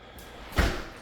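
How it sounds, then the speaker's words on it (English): Pocket glass doors in a house are closed into the kitchen, a brief soft slide ending in a single muffled thud nearby, with quiet room tone before and after. "And I'll close these doors."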